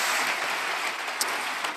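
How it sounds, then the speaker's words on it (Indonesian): A church congregation claps together, a dense wash of hand claps heard from within the crowd that carries on steadily, with no one speaking over it. "Berikan tepuk tangan kita untuk Tuhan kita."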